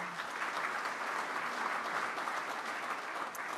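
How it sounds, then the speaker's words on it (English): An audience at a school music event breaks into steady, even applause, heard as a faint, continuous wash of clapping from a moderate distance that holds for the full few seconds without talk. "Let's give them a round of applause again."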